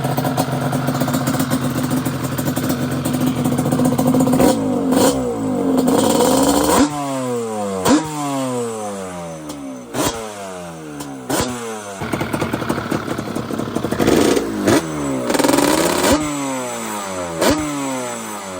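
Two-stroke Yamaha Banshee ATV engine with aftermarket exhaust pipes, sputtering then revved repeatedly in sharp rising blips that fall back between throttle stabs, loud and close; no talk.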